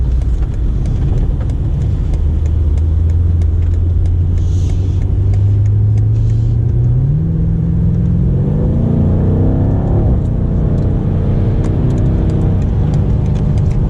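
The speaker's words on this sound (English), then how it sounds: "So we actually have the 8-speed. Same as what I have in my car, same as what's in the M5. All right, so let's try a little highway driving here." A 2021 BMW M8 Gran Coupe Competition with an 8-speed gearbox cruises on a highway, its engine a loud, steady rumble that climbs in pitch as it gathers speed, with no talking.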